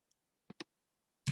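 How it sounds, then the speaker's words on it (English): A few sparse clicks of typing on a computer keyboard while writing Java code, two quick close taps followed by a louder keystroke after a pause, in an otherwise quiet room. "I don't want to keep typing syrup."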